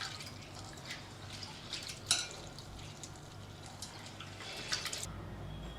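Urad dal lentils are washed by hand in a bowl of water, giving faint, close sloshing and light drips with a couple of sharper splashes and no voices.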